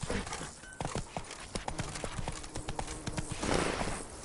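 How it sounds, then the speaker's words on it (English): Hoofbeats of a horse galloping in The Witcher 3, a steady, fast clip-clop rhythm up close with a brief whinny-like tone and rising rumble toward the end. "Run, Roach."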